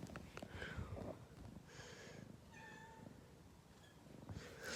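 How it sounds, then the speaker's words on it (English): A cat snuffles and makes soft, short chirping mewls close to the listener, quiet overall with faint breathy sniffing and a low rumble underneath. "Is it a kitty?"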